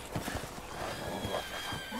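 Horses in Resident Evil Village neigh and whinny while hooves clip-clop in quick bursts, fairly close and loud against a busy game background.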